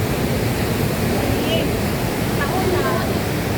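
Maria Cristina Falls pours down in a steady, loud roar of rushing water that fills the scene without a break, with faint voices now and then beneath it.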